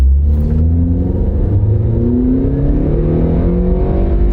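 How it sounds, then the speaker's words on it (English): A Honda car with an automatic transmission and 168,000 miles accelerates from inside the cabin, its engine droning loud and close as the pitch climbs, drops at each shift, then rises again. "Engine sounds good. Transmission shifting real smooth."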